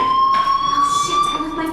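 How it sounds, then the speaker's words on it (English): A fire alarm rings in the video game Life Is Strange, a steady high electronic tone sounding throughout while a voice talks over it. "do you hear that fire alarm? That means you should be outside."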